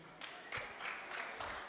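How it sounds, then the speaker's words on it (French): Audience applause at a live talk by the singer A'Salfo, a steady broadband wash of clapping with a few louder bursts, fairly close and continuous throughout without any speech over it. "je sais pourquoi vous applaudissez"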